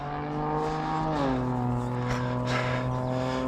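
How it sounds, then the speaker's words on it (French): A Ford Mustang engine idles and revs in a steady, rising drone, close and fairly loud, with its pitch stepping down partway through and holding there. "Petit bruit bien mignon sur mon Mustang"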